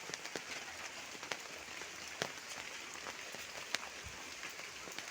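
Heavy rainy-season rain falls steadily outdoors, a dense, even hiss of drops on surfaces with scattered sharper splats, heard alone and fairly soft throughout.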